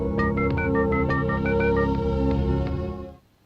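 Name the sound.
telephone being dialed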